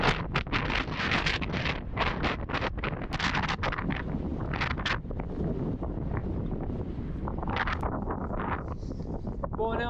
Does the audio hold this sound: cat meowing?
no